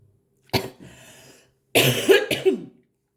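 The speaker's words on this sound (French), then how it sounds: "J'ai envie de tousser." Two bursts of coughing, close and loud: a single harsh cough, then a short pause before a cluster of rough, throaty coughs.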